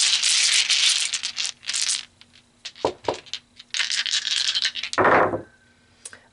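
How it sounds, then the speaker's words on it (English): Dice rattle and scrape in bursts as they are pulled and shaken, with clustered clicks and a louder tumble near the end, close and without talk. "Let's pull some dice."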